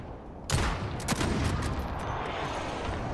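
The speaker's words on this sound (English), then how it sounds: "Allied cluster strike inbound." Cluster strike explosions in Call of Duty Modern Warfare: a sudden loud blast kicks off a dense, rolling barrage of overlapping detonations and crackling impacts that holds steady to the end, with no voices.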